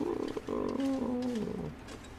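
A person imitates a wolf howl with a drawn-out, wavering vocal tone that rises and slowly falls, close and fairly loud.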